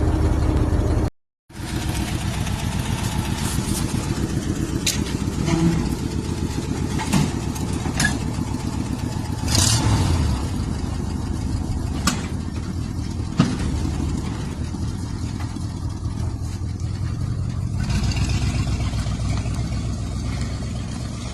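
An old car that sat dead in a field for 30 years, engine running steadily on a test drive after a charging-system repair; a continuous close engine drone with a brief cutout near the start and occasional knocks over it.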